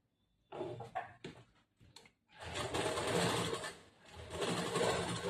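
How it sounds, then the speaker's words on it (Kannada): Sewing machine stitching blouse fabric, a few short bursts of the needle at first, then two longer runs of steady rapid stitching, close and fairly quiet. "4 ಸೈಡು ನೀಟಾಗಿ ಬಟ್ಟೆ ಜೋಡಿಸ್ಕೊಂಡು ಇದಕ್ಕ ಸ್ಟಿಚ್ ಮಾಡಬೇಕು."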